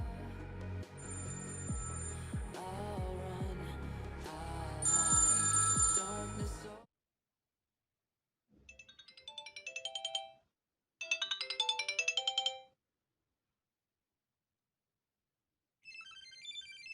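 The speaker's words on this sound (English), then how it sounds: "Let's check the ringtones." A Sony Ericsson T610 mobile phone plays its ringtones, first a full polyphonic melody, then short bursts of tone patterns separated by silences, loud and close.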